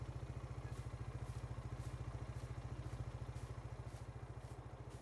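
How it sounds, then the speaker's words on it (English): A tractor engine idles in Farming Simulator 22, giving a steady, rapid low chugging pulse with a faint metallic clatter that runs evenly throughout. "Now we're going to leave the engine running."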